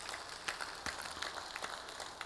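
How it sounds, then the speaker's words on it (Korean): A church congregation at a Wednesday worship service bursts into dense, sustained applause, with many overlapping sharp claps filling the room at a steady level. "예배 가운데 하나님께 먼저 감사 박수 한번 보여드리고요."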